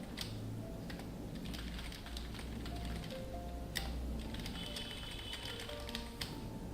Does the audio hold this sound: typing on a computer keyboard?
yes